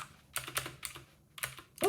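Keys on a Battletron mechanical keyboard with blue switches click sharply in a quick, uneven run of distinct presses, close and fairly quiet, with no talking.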